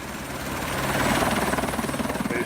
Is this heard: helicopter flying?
yes